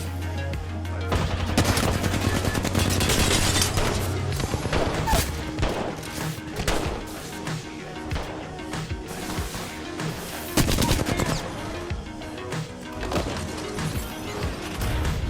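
Rapid gunfire in the video game Apex Legends, dense bursts of shots and explosive cracks layered over a low hum, loud and continuous with occasional heavier impacts, no talk.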